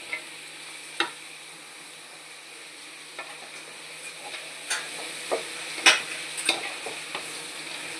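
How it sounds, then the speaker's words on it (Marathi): Carrot, capsicum and cabbage fry in oil over a high flame with a steady, fairly quiet sizzle. Scattered scrapes and stirring clatters rise above it through the middle and second half, and nobody talks. "गाजर, शिमला मिरची आणि पत्ताकोबी छान तेलामध्ये टाकलेले आहे आपण"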